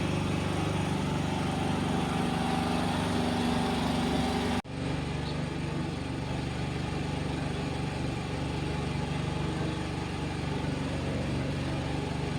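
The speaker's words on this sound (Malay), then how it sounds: "Bunyi generator kuat." A loud generator runs steadily at a raft house in Sepang, a constant droning engine hum with a brief dip around the middle before it carries on unchanged.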